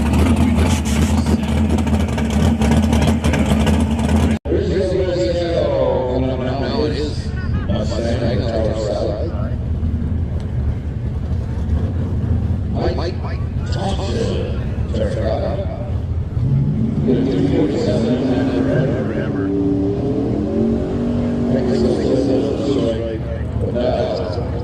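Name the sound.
drag race cars launching and accelerating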